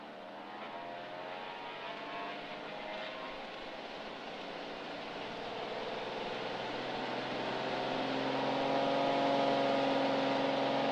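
A small aircraft engine roars through a takeoff roll on runway 04 at a mountain airfield, a steady droning hum that swells gradually louder as power builds over the run, with no talking.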